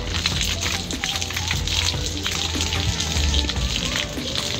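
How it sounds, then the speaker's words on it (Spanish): Water is poured over a Salomon Crescent jacket, a dense continuous splashing and pattering on the fabric, loud and close throughout. "La vamos a pasar por el agua."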